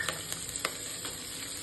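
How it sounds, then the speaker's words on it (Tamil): Chana dal, urad dal and green chilies frying in a hot pan, a steady close crackling sizzle with small pops and occasional stirring clicks. "அடுப்பை பற்ற வச்சுட்டு கடலைப்பருப்பு, உளுத்தம்பருப்பு, பச்சை மிளகாய் 5 பச்சை மிளகாய் போட்டிருக்கேன்"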